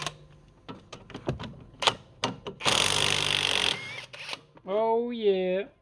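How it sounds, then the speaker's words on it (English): An impact wrench works loose a tight anti-roll bar drop link on a VW Caddy 2k. Scattered clicks and knocks lead into a loud, rough burst of roughly a second, then a whirring, rising motor whine. "I'm going to try the old rattle gun, see if that'll whiz it off faster."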